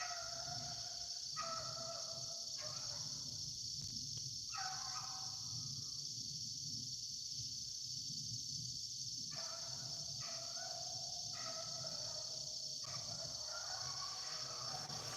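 Beagle hounds bay while running a rabbit, their long wavering howls rising and falling in repeated bursts at a distance, over a constant high insect-like hum.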